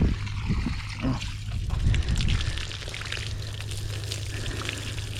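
Water pours and splashes over a hat as it is rinsed, with a gurgling, sloshing burst early on that settles into a steadier trickling flow, close by.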